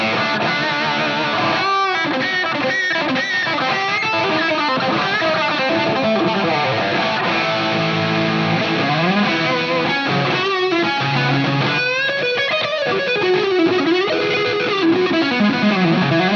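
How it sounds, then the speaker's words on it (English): Electric guitar played through a Marshall JCM 800 amplifier pushed by a King of Tone overdrive pedal, giving a dense, driven crunch with sustained chords and riffs, loud and continuous throughout with no talking. "I think this is actually my favorite JCM 800 tone that we dialed in."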